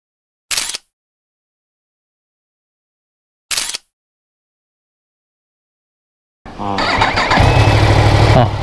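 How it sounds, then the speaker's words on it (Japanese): A new sport motorcycle, a Yamaha YZF-R1 or Honda CBR1000RR-R, gives two brief starter attempts separated by silence, then catches and fires into a loud, close rumbling idle that holds steady to the end. "よかった、エンジンついた。"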